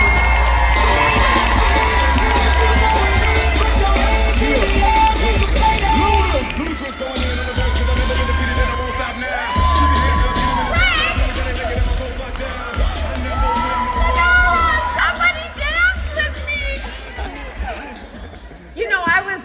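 A large audience at the TLA 2025 event cheers, whoops and shouts as Diamond Gina Della is welcomed on stage, a loud sustained crowd roar with scattered bangs and chatter throughout.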